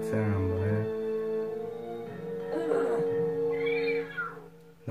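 Cat meowing in a Luigi's Mansion 3 game, several drawn-out wavering mews and a rising cry over a steady tonal game background.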